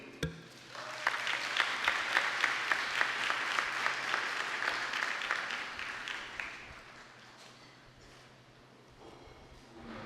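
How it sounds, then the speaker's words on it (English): Audience applause at an awards gala, a steady wash of clapping from a seated crowd that rises quickly, holds for several seconds, then thins out and fades to a few scattered claps near the end. "Let's give another round of applause to those special recognitions that we just heard"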